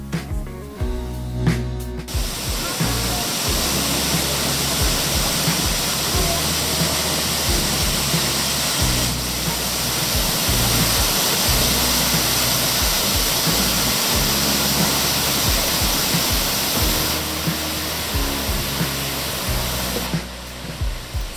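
Russell Falls in Mount Field National Park, Tasmania, roars in a dense, unbroken rush of water noise, loud and constant throughout, with a few low thumps near the start.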